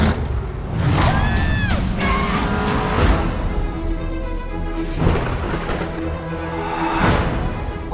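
A station wagon drives hard and skids, with tire squeal and engine noise mixed into a loud, busy movie-trailer soundtrack that includes other effects and some voices.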